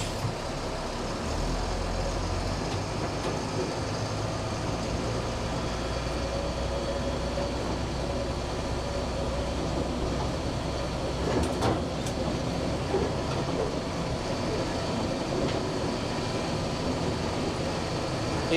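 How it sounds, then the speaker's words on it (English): An LMTV military truck drives along a street with a steady, fairly quiet low rumble of engine and road noise that continues evenly throughout, with no voices. "once you hit that second to third gear shift, the truck gets very fast"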